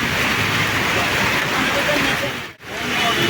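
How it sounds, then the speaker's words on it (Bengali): Steady, dense rain hiss fills the clip at a constant level, with a brief dip near the end before the downpour resumes. "অনেক বৃষ্টি নেমে গেছে আজকে"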